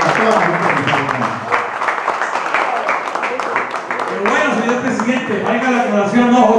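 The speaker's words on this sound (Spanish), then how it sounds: "Un aplauso para todos ustedes." Applause for the participants on the Programa IMPACTO broadcast; dense clapping mixed with voices and background talk, loud and continuous throughout.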